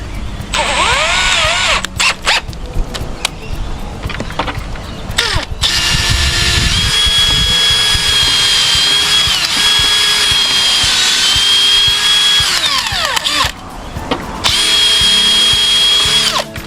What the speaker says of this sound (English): Once again, pre-drill.